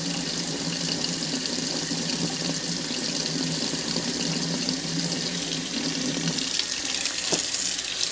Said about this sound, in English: run some super hot water.